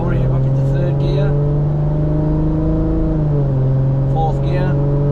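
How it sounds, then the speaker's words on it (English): Nissan R34 GTR engine fitted with a ZF 8-speed automatic gearbox, a steady loud drone whose pitch dips slightly as it shifts up a gear, with someone talking over it throughout. "Can you hear it change full automatic now? It's already up into 3rd gear"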